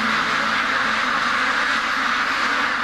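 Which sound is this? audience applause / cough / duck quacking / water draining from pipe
duck quacking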